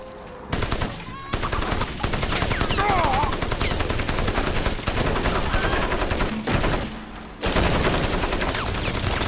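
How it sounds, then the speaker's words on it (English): Two enemy turrets firing at the player in a 2007-era PC shooter game, rapid machine-gun bursts and gunshots hammering continuously and loudly with brief pauses between volleys. "Got 2 turrets after me now."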